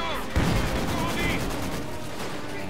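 Gunfire from a Company of Heroes 2 mission: dense, continuous battlefield noise with rapid overlapping shots and a heavier burst near the start, filling the whole stretch.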